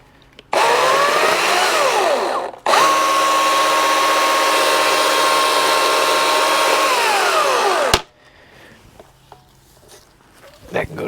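A power tool, likely a saw, cuts through an Italian cypress branch in two loud sustained bursts of steady whining, with a short break between them, then stops abruptly, leaving quiet outdoor rustling.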